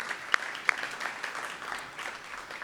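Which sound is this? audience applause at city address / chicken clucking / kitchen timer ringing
audience applause at city address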